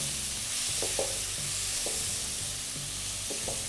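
Brined chicken pieces frying for gongura chicken fried rice, a steady loud sizzle in a pan with repeated scraping stirs of a spatula at irregular intervals, close and without talk.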